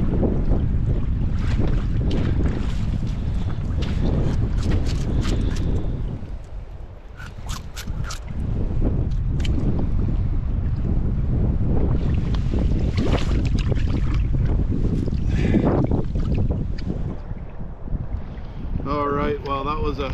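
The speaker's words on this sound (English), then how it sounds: "I was getting killed by this headwind" Strong, steady headwind roars across the microphone while paddling on a Yukon wilderness river, a loud continuous buffeting rush that eases briefly before surging again.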